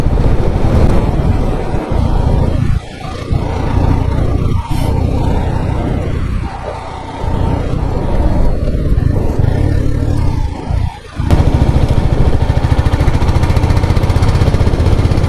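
Royal Enfield Meteor 350 motorcycle cruising along a road toward hills, with a steady loud engine drone and wind rush throughout and a few brief dips in level.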